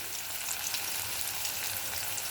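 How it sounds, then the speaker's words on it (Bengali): Nigella seeds tempering in hot oil, a continuous bright, hissing sizzle with a faint crackle, steady and close, with no voices. "তার জন্য আমি কালো জিরে ফোড়ন দিলাম"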